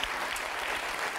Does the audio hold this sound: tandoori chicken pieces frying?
no